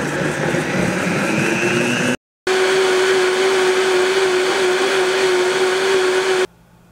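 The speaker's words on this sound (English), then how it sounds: "If you have a regular blender, what you want to do is start small and then turn it up to full speed." A regular blender whirring spinach for Mexican hot chocolate at full speed, a loud steady motor whine that cuts out briefly, restarts for several seconds, then stops.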